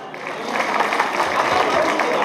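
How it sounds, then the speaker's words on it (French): Audience at a music show applauds loudly and steadily, a dense wash of clapping that grows slightly and holds. "Je voudrais qu'on l'applaudisse très fort."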